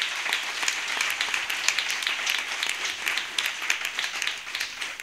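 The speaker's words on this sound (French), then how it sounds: "Acclamez pour Jésus. Clap for Jesus." Church congregation clapping during worship, a dense, steady burst of many hands applauding together, fairly loud and close, with no talk over it.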